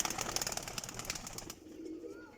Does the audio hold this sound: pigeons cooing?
yes